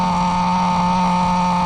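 XtM X-Cellerator nitro RC car engine idling after a tightened motor mount, a loud, steady high-pitched buzz with a constant drone close by and no talk.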